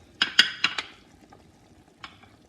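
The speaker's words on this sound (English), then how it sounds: "And I'm gonna add the onion" Onion goes into a pot of egusi soup with a quick run of four sharp metallic clinks and clatters of spoon on pot, then near silence, then one last lighter clink.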